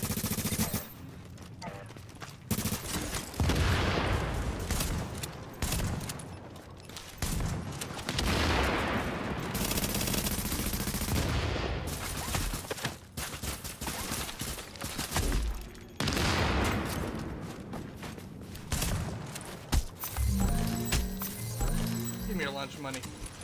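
Dense automatic gunfire rattles almost continuously during Dark Zone PvP combat in the video game The Division, loud and close with bursts and brief pauses, while a player talks over it.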